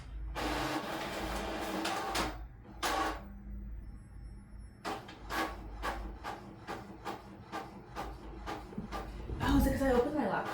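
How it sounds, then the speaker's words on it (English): A home printer starts running on its own, giving a series of loud mechanical whirring and clunking bursts, a long grinding pass followed by rapid regular clicks and feeding sounds, with a person speaking over parts of it. "I thought my printer had a ghost in it for a second there because it just started going"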